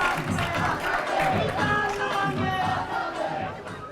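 A live studio audience at a political interview show cheers and applauds as a guest is welcomed, a dense crowd roar with voices and clapping running steadily throughout.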